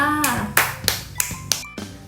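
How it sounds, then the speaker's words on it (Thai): Children clap their hands in a classroom movement and rhythm activity, about five sharp, separate claps spaced evenly and close by, with a faint tonal background underneath. "ปรบมือให้เต็งหน่อยค่ะ"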